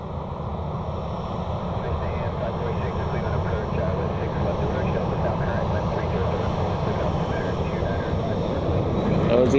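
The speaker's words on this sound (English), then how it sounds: "behind that, we have the Avello. (737-800). This flight is heading to New Haven." An Avelo Boeing 737-800 airliner passes the airport with a broad, steady jet roar that swells slightly toward the end. Wind buffets the microphone and a voice talks over the noise.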